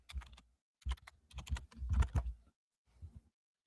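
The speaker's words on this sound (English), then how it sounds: "I got to type in my password" Password being typed on a computer keyboard: a quiet, close patter of key taps in uneven small groups lasting about three seconds, with no voices.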